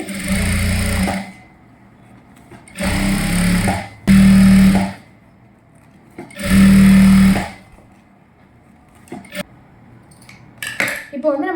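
A sewing machine stitching folded silk fabric for a child's silk skirt and blouse, running in four bursts of steady whirring with pauses and small handling clicks between them.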